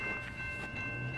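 A stopped CN freight train gives off a low, steady rumble with a faint sustained tone, heard briefly and quietly.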